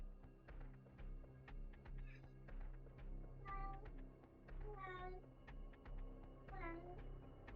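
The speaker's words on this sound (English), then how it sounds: "I hear somebody's cat." A cat meows three times, drawn-out and fairly clear, spaced a second or two apart, over a steady low hum and faint tapping.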